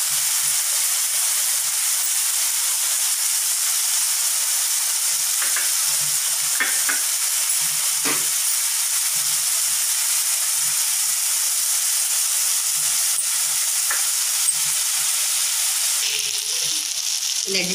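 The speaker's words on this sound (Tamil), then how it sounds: "வெங்காயம் தக்காளி இன்னும் நல்லா வதங்கணும்." Onion and tomato sautéing in a pan, a constant bright sizzle and steamy hiss with faint occasional stirring scrapes, close and steady throughout.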